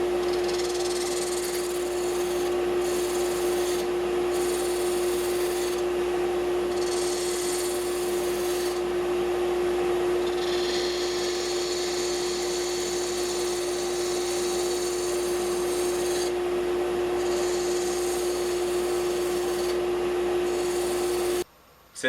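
A wooden pepper mill spins on a wood lathe while a cutting tool shapes it, giving a steady loud motor whine with a constant tone and rasping scrapes that come and go for about twenty seconds before stopping abruptly.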